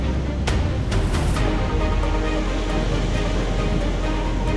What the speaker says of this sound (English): Look, these wonderful wild waves.